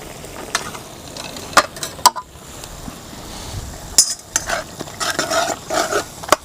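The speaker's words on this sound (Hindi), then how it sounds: "ये टमाटर जो है इसको हमने इसी में हल करना है" A utensil mashes softened tomatoes inside a mutton karahi pot, producing scraping, clinking metal taps and soft squelches with a light sizzle underneath, irregular and close.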